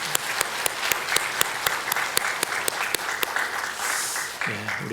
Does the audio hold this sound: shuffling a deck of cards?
no